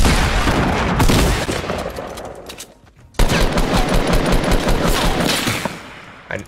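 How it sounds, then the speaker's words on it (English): Rapid automatic gunfire in Fortnite rattles loud and close in sustained bursts, dropping off briefly midway before another long volley erupts. "Is that you guys shooting?"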